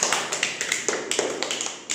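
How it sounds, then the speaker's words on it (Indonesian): Classroom applause for a student presenter in an Indonesian lesson, a quick patter of hand claps with irregular rhythm, moderately close and fairly faint, with no voices. "tepuk tangan buat pengolah"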